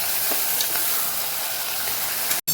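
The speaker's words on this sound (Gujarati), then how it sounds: "સરસ આપણે મિક્સ કરી દઈશું" Chopped tomato being stirred into a sizzling pan of masala for a Gujarati thali, a continuous hissing fry with soft scraping strokes, close and loud, ending in a brief cutoff.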